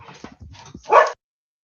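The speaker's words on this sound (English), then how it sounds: "Oh, the dogs are barking." Dogs bark in a few short, close, loud bursts, the last one the strongest, before the sound cuts to silence.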